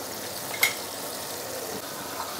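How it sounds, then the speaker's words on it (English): Fish deep-frying in oil in a wok for a claypot fish head dish gives a steady, even hiss and sizzle, with one brief metallic clink early on. "Total deep frying time, probably about 2 minutes each side, plus minus 4 to 5 minutes."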